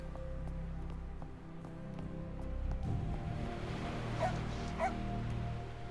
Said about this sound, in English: we're going to go up to the stray dog